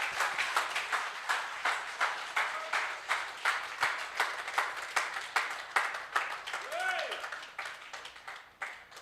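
Congregation applauding at a live church service, a steady wash of rhythmic clapping that fades slightly toward the end, with a voice speaking briefly over it.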